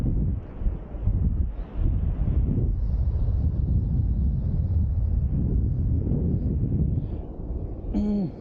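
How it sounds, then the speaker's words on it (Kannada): Steady, heavy evening wind at a beach in Surathkal buffets the microphone throughout, a continuous low roar with gusts and no clear voices. "ಈವ್ನಿಂಗ್ ಟೈಮಲ್ಲಿ ಬೇಜಾನ್ ಗಾಳಿ ಇದೆ"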